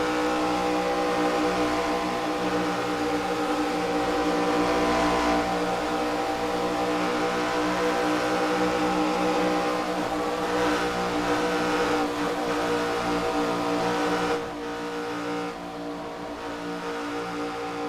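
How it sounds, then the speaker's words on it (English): ARCA race cars roar steadily through the corners on a super speedway, engines droning continuously with subtle dips as drivers lift off throttle, with a slight drop in level near the end. "You can hear the guys lifting. They can't go full throttle through the corners."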